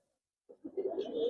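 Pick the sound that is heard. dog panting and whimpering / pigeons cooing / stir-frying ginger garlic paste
pigeons cooing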